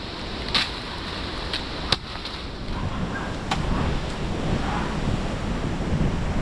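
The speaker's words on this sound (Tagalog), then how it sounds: "Hangin nga lang, hangin." Gusty wind buffets the microphone, a rough continuous rush with a few sharp knocks and gusts, no talking.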